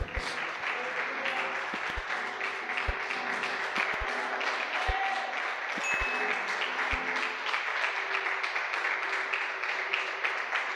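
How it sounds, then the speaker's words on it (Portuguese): A church conference audience applauds continuously, dense clapping from a large room that holds steady for the full stretch, with a few low thumps beneath. "Gostaria que você aplaudisse o Senhor."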